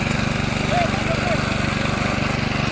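A tractor ploughs a monsoon paddy field in the Konkan, its engine a steady, close, rhythmic chugging drone that runs unbroken, with a voice faintly present.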